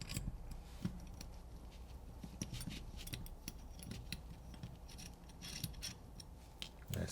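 Small screws backed out of the bottom of an Empire Mini paintball marker, a run of close metallic scrapes, clicks and faint rasping over a steady low hum, no talking.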